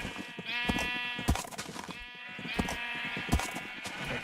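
Many sheep on a sprawling Minecraft sheep farm bleat loudly and overlapping in repeated wavering calls, close and crowded, with thumping footsteps between them.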